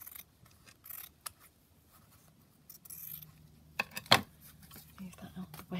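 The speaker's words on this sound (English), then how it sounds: "Let's just trim a little bit off" Scissors trim fabric for a collage, producing a few quiet snips and rustles, then one crisp, louder cut, with soft paper handling around it and someone speaking intermittently.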